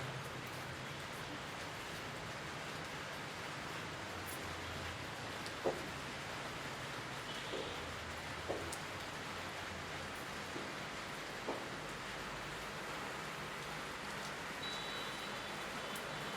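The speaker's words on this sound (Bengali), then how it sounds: "আবার বৃষ্টি শুরু হলো অবশ্যই, টিপ টিপ করে।" Light drizzling rain falling outdoors, a faint, even hiss of fine drops sustained throughout with a few soft isolated taps and no talking.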